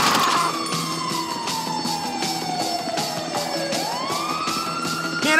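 Ambulance siren in GTA 5, loud and close, with a continuous wailing tone that sweeps slowly down and then rises again over a rhythmic pulsing pattern and background traffic rumble.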